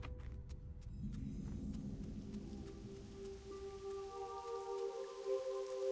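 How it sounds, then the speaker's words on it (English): Steady rain pours down in World of Warcraft Classic with a soft hiss and low rumble, while a sustained synth tone swells in over it. "And it's raining!"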